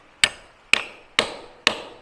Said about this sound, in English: Hit them with the hammer a little bit.